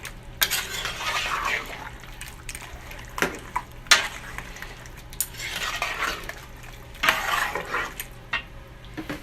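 Spoon scraping and clinking against a pot while palava sauce with red palm oil is stirred, irregular bursts of clatter and wet stirring, close and fairly loud, no talking.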